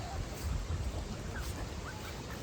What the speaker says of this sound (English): We got the mama hens in here with the little ones.